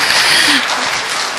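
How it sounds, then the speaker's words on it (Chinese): An audience at a lecture on Jingdezhen porcelain decoration and painting claps together, a dense, loud, continuous patter of many hands filling the short moment. "我们再次热烈的掌声"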